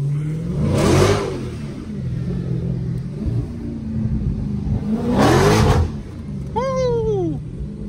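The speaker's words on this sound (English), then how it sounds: "it just sounds so crazy" A Dodge Charger SRT 392 V8, in wrecked condition, revs loudly while driving, with two strong surging bursts over a steady engine rumble and a brief high squeal near the end, and excited voices in between.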